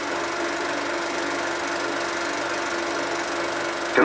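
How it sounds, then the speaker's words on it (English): A 1950s Dodge 140-horsepower Red Ram engine runs with a steady, loud, continuous mechanical drone that holds an even level throughout, with no voices over it. "the 140 horsepower Red Ram engine is certainly packed with punch"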